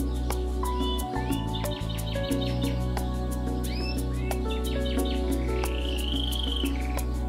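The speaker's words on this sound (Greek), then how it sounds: "Κάτσε να ακούσουμε τα καναρίνια που ψέλνουν." Canaries sing continuously with bright warbling trills and rising chirps, layered over a steady low hum and constant background chatter of birds, at Lake Marathon in Attica.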